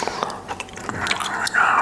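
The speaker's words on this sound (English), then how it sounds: "the gum chewing was so loud" Loud, close gum chewing with wet smacks and clicks, recorded at a high level, with whispery mouth sounds running through it.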